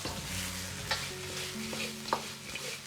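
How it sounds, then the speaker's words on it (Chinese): Fried chicken wings are tossed quickly in a wok with barbecue seasoning over low heat, with a soft steady sizzle and a few sharp spatula clinks against the pan, and no voices. "快速的翻炒几下，炒匀烧烤料即可关火出锅"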